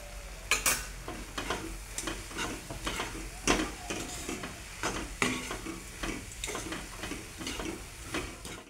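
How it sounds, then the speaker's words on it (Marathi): Ingredients are stirred into hot jaggery syrup in a pan, with repeated soft scraping and tapping strokes over a faint, steady sizzle. "गुळाच्या पाकामध्ये सर्व साहित्य टाकून 2 मिनिटं मिक्स करून घ्यायचंय।"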